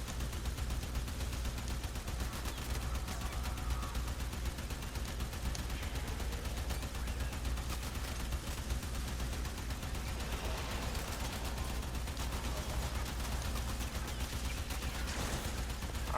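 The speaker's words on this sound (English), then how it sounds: "I've got enough explosions for everybody." Steady, dense rumble of explosions and gunfire in Warframe, continuous and loud throughout with no pauses, a low booming bed under crackling bursts.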